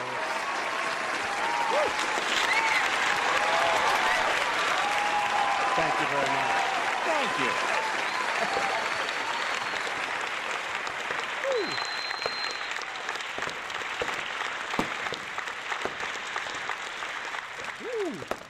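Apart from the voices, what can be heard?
applause sound effect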